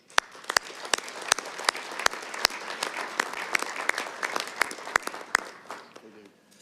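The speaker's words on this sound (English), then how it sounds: "let's give them a big round of applause" An audience at an international ski congress in Reykjavik applauds steadily, with dense clapping and a few sharp, louder claps standing out, and no voices over it.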